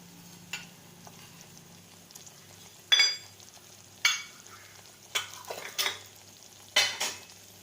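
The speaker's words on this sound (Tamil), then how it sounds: "ஒன் மினிட் நல்லா வணக்கிக்கோங்க." Fish gravy masala with kodampuli sautéing and being stirred in a pan: a low sizzle runs under several sharp scraping strokes spaced irregularly, close and fairly quiet, with no voices.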